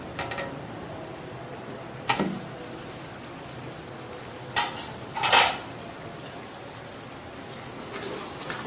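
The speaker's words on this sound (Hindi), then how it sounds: "मैं इसका कवर उठा कर देखती हूँ" A metal lid is lifted off a cooking pot of turnip and meat curry, giving a few sharp clinks and clatters with brief metallic rattles against a quiet kitchen background.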